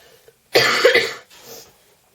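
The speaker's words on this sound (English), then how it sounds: "I've got a bit of a cough and sore throat" A single harsh cough, close and fairly loud, trailing off into a softer breathy rasp in an otherwise quiet room.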